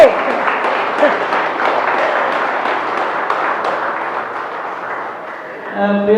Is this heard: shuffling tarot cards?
no